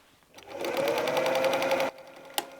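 A sewing machine joining two pieces of fabric for scrap patchwork, one close burst of rapid stitching lasting just over a second, followed by quiet and a short click.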